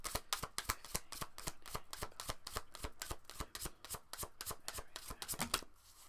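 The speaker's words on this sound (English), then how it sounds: "Let's pull some, let's pull some more cards." Tarot cards being shuffled in a steady, rapid riffle of crisp papery slaps, close and loud for several seconds with no talking.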